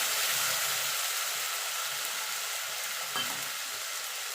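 Ginger, garlic, green and dried chili paste fries with onions in hot oil, a dense close sizzle with soft stirring scrapes throughout.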